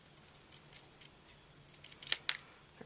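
Scissors snip paper for card making in a quiet room, a series of soft, close cuts spaced irregularly and ending in a couple of sharper snips.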